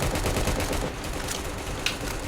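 Continuous loud crackle of rapid gunfire from police in the Roblox Prison Life video game, a dense unbroken barrage filling the whole stretch with one brief sharper pop near the end.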